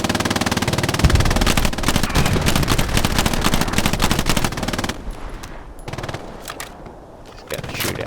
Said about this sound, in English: Just gotta shoot at him enough to get him to stop firing.